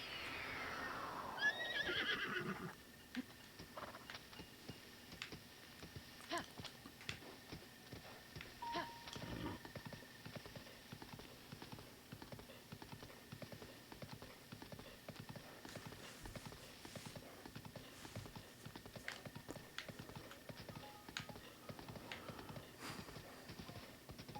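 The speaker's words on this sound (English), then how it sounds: "I can just like whistle the horse and he like comes right over by me" In Breath of the Wild, a horse whinnies briefly at the start, then hooves clip-clop in a steady, quiet rhythm that continues throughout.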